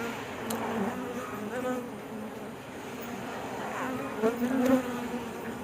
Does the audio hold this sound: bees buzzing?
yes